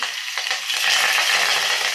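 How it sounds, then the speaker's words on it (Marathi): Green chillies and curry leaves sizzle in hot oil as a tempering for Maharashtrian dal. The sizzle is a continuous close crackle that swells slightly louder partway through and runs without any voices. "वा, मस्त खमंग फोडणी बसलेली आहे."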